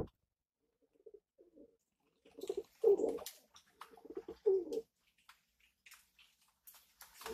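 Pigeons in a loft give soft, low cooing and murmuring calls, quiet and intermittent at first, then a louder cluster of coos midway, with faint rustling and scattered clicks around them.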